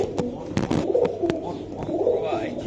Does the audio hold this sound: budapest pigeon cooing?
yes